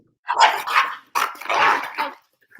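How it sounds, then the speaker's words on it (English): Dogs scuffling with sharp barks and growl-like bursts in two or three loud, close clusters, separated by brief pauses. "Oh, doggy fight."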